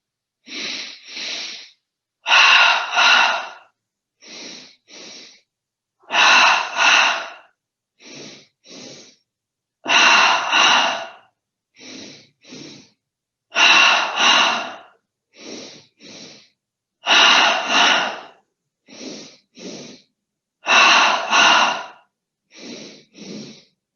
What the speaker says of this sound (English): 10 double breaths, starting in the belly, breathing in through the nose twice